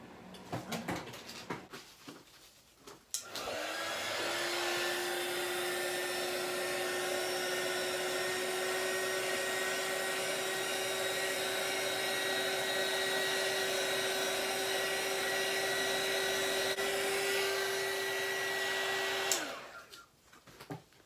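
A heat gun blows hot air over epoxy resin. After a quiet start with light handling noise, it runs as a soft, steady whoosh with a thin whine for about fifteen seconds, then switches off.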